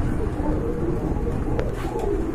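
Pigeons at a pigeon farm in Kashimpur, Gazipur, Dhaka coo continuously in low, rolling, overlapping calls, close and fairly loud, forming a constant murmur.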